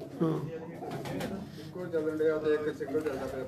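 A breeder's pigeon coos softly in short, low murmuring phrases, heard close by beneath someone talking over it.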